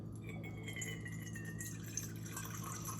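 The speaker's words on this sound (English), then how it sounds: "Now this I can pour safely through here," Bacon-infused bourbon trickles through a strainer into a cup, a soft, steady liquid pour heard close up over a low background hum.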